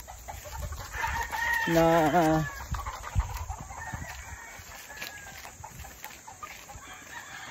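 Chickens and roosters cluck and crow at a breeding farm, with one clear stepped crow standing out over scattered clucks and distant calls while someone talks nearby.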